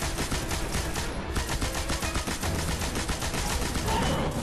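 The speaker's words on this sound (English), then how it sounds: "Let me get my machine gun out here." Rapid automatic gunfire from a machine gun in the video game Destiny, during a Venus mission fight: a dense, continuous stream of loud shots with steady rhythm throughout, with no speech over it.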